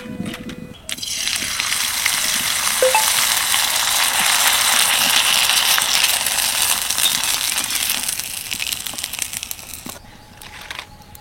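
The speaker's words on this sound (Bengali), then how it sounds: "আপনারা দেখতে পাচ্ছেন তো পাঁপড়গুলো কত সুন্দর কম সময়ের মধ্যে ভাজা হয়ে যাচ্ছে।" Rice flour papad frying in hot oil gives a loud, dense, crackling sizzle that holds steady through most of the stretch, then eases off near the end; no voices.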